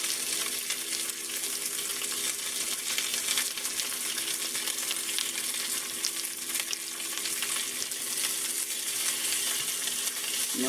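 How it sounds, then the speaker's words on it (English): Onions caramelizing in about a teaspoon and a half of peanut oil in a pan give off a steady, broad frying sizzle that holds evenly throughout, with no talking. "Caramelizing the onions first. Get them going a little bit. In the peanut oil."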